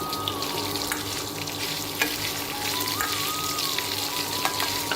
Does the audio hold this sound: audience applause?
no